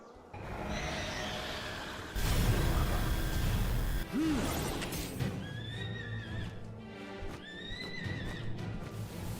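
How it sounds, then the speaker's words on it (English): A Univolt, the electric horse creature in Palworld, whinnies in a couple of bright, rising-and-falling calls over dense game noise and impacts, with a voice talking faintly underneath. "It's an electric horse."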